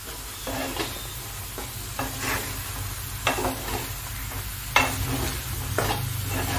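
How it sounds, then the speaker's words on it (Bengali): Banana stem paste fried and stirred in a pan with cumin, dried chilli, salt and turmeric, a steady close sizzle broken by repeated scraping strokes of a spatula, with no talk. "এবারে আমি এটাকে ভালো করে ভাজা করে নেব"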